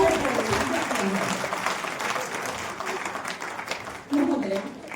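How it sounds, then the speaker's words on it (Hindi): A crowd at a Jat women's empowerment conference applauds to welcome a guest, sustained clapping that swells again near the end, with voices over it. "माननीय का जोशपूर्ण करतल तालियों की गड़गड़ाहट के साथ स्वागत करें"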